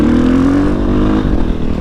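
A motorcycle engine revs loud and close during a one-handed clutch-up wheelie attempt, a sustained throaty drone that holds steady, then roughens and dips slightly near the end.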